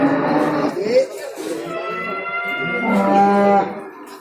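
Cattle low at the Prambanan cattle market, a close, loud moo rising and falling over several seconds, joined by a second sustained call near the end amid market background.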